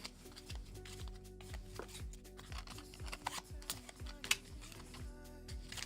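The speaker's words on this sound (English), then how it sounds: "So you're going to shuffle the cards" Playing cards being shuffled at a family table while setting up a tabletop board game, a rapid run of crisp riffling clicks close to the microphone, with faint household background and no clear talk.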